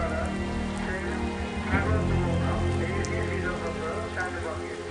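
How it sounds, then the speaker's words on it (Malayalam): Heavy rain pours down steadily on a surface, a dense continuous wash of drops with no clear pauses, filling the whole scene at an even, fairly loud level. "മനുഷ്യനെ വലിപ്പിക്കുന്ന മഴ തന്നെ."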